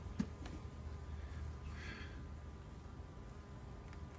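Honeybees buzz around hive frames in a low, steady drone that stays faint under a constant background hum, with no voices.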